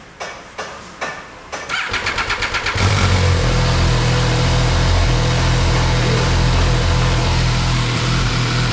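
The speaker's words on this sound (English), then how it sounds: "Just start up the bike for me." An MV Agusta motorcycle engine starting up, close by: a few separate cranking bursts, then a fast rattling crank that catches and settles into a loud, steady idle that carries on to the end.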